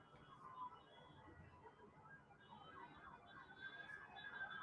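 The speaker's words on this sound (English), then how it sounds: "now I'm hearing like fire trucks, sirens, and that's constant downtown" Fire truck sirens wail faintly and steadily in the distance in downtown Los Angeles, a continuous rising and falling tone beneath a low crowd murmur.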